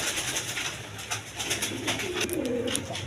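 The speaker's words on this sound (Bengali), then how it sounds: "কীরকম ভালো জাতের কবুতর, অবশ্যই আপনারা পছন্দ নিয়ে নেবেন।" Good-breed pigeons at a farm give soft, throaty coos that roll in during the second half, over a constant low background hiss.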